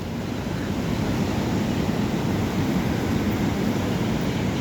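Steady broadband rush of water flowing outdoors near a pilgrimage spot at Trimbakeshwar, Nashik, loud and continuous without a break, with some wind-like hiss layered in.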